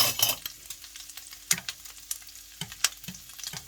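Vegetables and garlic stir-fried in a pan outdoors, with a soft continuous sizzle broken by sharp scraping and clanking stirs, close and without talk.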